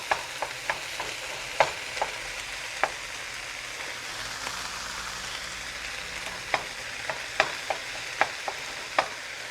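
Ground vegetarian meat substitute browns in a pan with a quiet, steady sizzle broken by sharp periodic scrapes and taps of a spatula stirring, fairly soft and close, with no talking.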